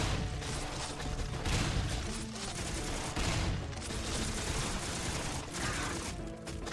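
Cannon fire in Beast Battle Simulator, a dense, continuous barrage of booming shots and mechanical clatter running steadily throughout, loud and close with no talking.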